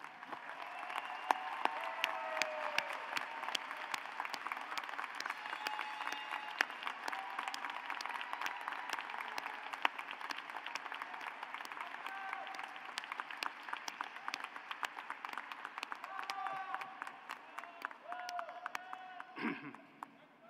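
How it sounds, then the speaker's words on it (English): A medical school commencement audience applauds family and friends, sustained clapping from a large indoor crowd heard at a moderate distance, steady for most of the stretch before tapering near the end. "Please join me in applauding your family and friends."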